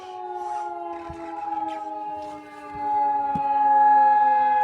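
A new siren wails with a sustained, steady tone, rising slightly in loudness toward the end, carrying clearly from a distance with a few faint background knocks.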